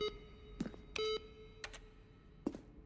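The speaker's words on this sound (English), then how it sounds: "Each sound is a mix of keyboard stroke and a synthesized tone." Button presses in The Stanley Parable, each a keyboard click blended with a synthesized beep, sounding as several separate faint presses with sustained tones of varying pitch and no talk.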